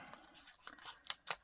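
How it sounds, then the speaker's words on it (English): Small scissors snipping a picture out of paper, a few crisp close cuts spaced irregularly, the last two sharper and louder, with no talking. "These small scissors are really handy for this."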